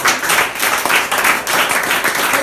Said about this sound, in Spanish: Vamos a aplaudirlo nuevamente.